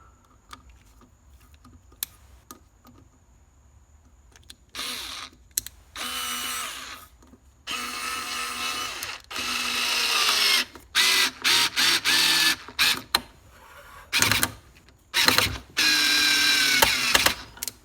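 A HYCHIKA rechargeable electric screwdriver whirs in repeated bursts, short and longer runs separated by pauses, with occasional clicks between them, close and fairly loud.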